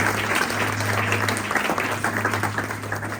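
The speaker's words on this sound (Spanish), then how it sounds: "Y eso merece otro aplauso." A congregation at a church sermon gives a round of applause, many hands clapping steadily at moderate volume with a faint low hum beneath throughout.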